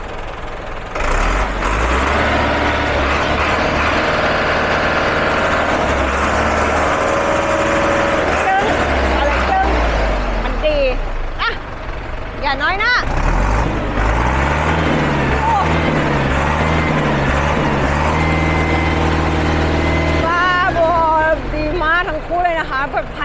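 An old imported tractor of the 6640 or 6610S model runs on a test with a steady, close diesel rumble and shifting engine tones, under a person talking throughout.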